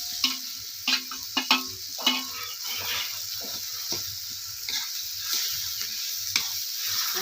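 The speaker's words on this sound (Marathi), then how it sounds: "चांगले ह्याला ना परतून परतून परतून घ्यायचंय" Ground lentil paste for Maharashtrian pithla sautéed in a pan, a steady close sizzle broken by repeated scraping and stirring strokes of a spoon, with no talking.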